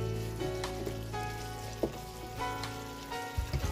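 Spice paste sizzles and fries in a pan while a spoon stirs it, with soft scraping strokes over a steady low crackle.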